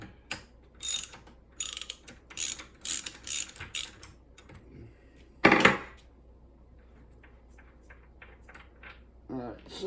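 Treadmill deck parts on a NordicTrack turned by hand produce a run of short mechanical clicks and ratcheting bursts, close and fairly loud, then a scrape and scattered faint taps after a pause.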